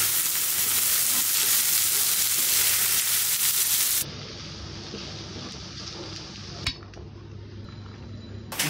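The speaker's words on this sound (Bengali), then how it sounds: "এই যে পেঁয়াজ দিয়ে এখন পেঁয়াজটাকেও ভেজে নিব।" Onions frying in hot oil with pointed gourd give a loud, steady sizzle that drops sharply to a quieter crackle halfway through, with a single utensil clink near the end.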